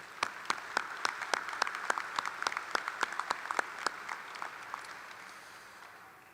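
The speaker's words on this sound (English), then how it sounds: "so please give them a round of applause." A graduation ceremony crowd at Francis Howell North High School claps for teachers. Scattered, distinct handclaps come from a sparse audience and thin out into quiet over several seconds.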